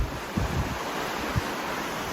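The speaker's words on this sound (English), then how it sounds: "nothing to look at, just the Atlantic Ocean" Atlantic Ocean waves and wind heard from a cruise ship balcony on a chilly day at sea, a steady broad wash of surf with gusty wind buffeting the microphone and no voices.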